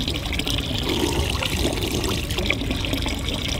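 Water runs steadily from a public drinking fountain in a Swiss town, a continuous close splashing trickle at an even level, with no talk over it.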